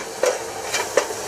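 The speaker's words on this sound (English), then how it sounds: "And you hear that start to sizzle." Garlic fries in a pan while a wooden spoon stirs it, giving a soft steady hiss broken by a few brief scraping bursts, close and fairly quiet.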